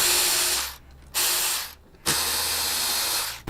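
A ratchet wrench backs out Torx 20 bolts from the handlebar switch housings of a Harley-Davidson Road Glide motorcycle, with three close bursts of rapid clicking separated by short pauses.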